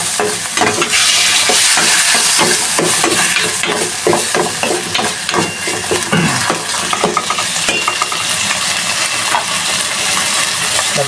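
Vegetables are stirred in a frying pan over a lowered flame, a steady close scraping and tossing with sizzling underneath and occasional metallic clinks of the utensil against the pan.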